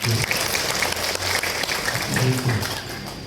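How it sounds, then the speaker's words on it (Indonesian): An audience at a school gathering in Indonesia claps steadily through a ceremonial address, a dense patter of applause, with a voice speaking over it. "Angkat tangan dong, tepuk tangan dong lagi."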